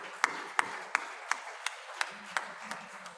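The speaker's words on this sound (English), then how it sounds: "So again, with a big round of applause," Faint, slow, evenly spaced applause after an Odissi dance performance, about nine sharp claps spread over three seconds, sounding distant and sparse rather than a full crowd.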